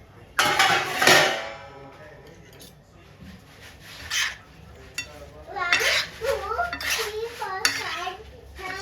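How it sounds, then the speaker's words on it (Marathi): A metal spoon scrapes and clinks against a pot while stirring sun-dried raw mango pieces with spice mix in cooled oil for a homemade pickle. The clatter comes in several close, uneven bursts, with someone talking between them. "चमच्याने आता हे सगळं साहित्य छान एकजीव करून घ्यायचं"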